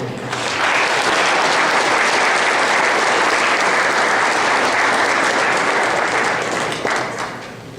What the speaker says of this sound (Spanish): a quienes yo en este acto pido un aplauso